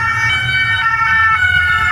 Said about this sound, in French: on va passer l'ambulance